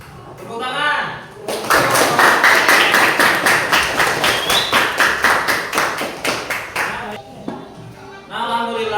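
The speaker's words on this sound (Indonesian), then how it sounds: "Tepuk tangan." Group clapping in a classroom during a teacher's performance-assessment lesson: a rhythmic, fairly loud burst of hand claps lasting about six seconds, bracketed by a voice talking just before and just after.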